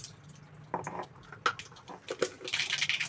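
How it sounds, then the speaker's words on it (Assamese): Mustard seeds drop into hot oil in a wok over a gas stove and set off scattered crackles and sputtering pops, light and irregular, growing busier toward the end. "এতিয়া তেলতে দিছোঁ অলপমান সৰিয়হ"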